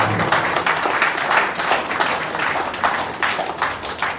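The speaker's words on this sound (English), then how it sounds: "Please, may we give the NDCO a resounding round of applause." A press-conference audience gives a round of applause for the NDDC chief, a full, continuous patter of many hands clapping with gentle swells and no talk over it.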